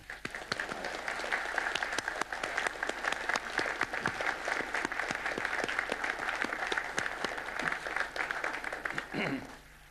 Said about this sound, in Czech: My jim musíme pořádně zatleskat